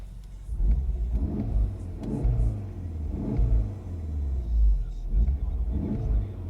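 A 2015 Volkswagen Golf R engine heard from inside the cabin, a low muffled rumble that swells and eases in a steady rhythm, with no talking.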